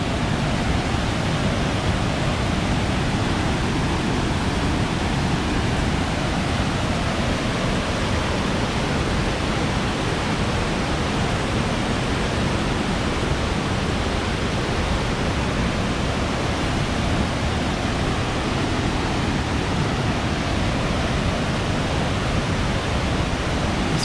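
Creek water flowing steadily beside Glade Creek Grist Mill in Babcock State Park, West Virginia, a loud, close, unbroken rushing wash with no voices over it.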